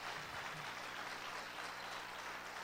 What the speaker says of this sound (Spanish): aplaude a Dios con ganas